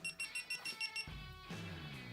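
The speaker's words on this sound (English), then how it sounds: "press the button until you hear it beep a few times" Cycling action camera beeping, a quick series of about six short electronic beeps, close and clear, followed by a lower tone.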